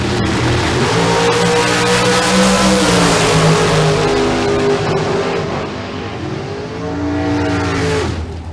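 Drag race at Famoso Dragstrip with a Shorty Dragster and a second car launching: loud, sustained engine roar rising in pitch as the cars accelerate down the strip, dipping briefly before another surge of revving, no voices.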